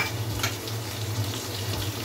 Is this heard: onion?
yes